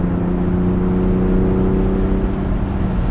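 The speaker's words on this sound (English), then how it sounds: "This 3-liter twin-turbo V6 offers up plenty of power." A 2022 Ford Bronco Raptor's 3-liter twin-turbo V6 hums steadily from inside the cabin while driving, a constant loud low drone with a smooth whir and no talking.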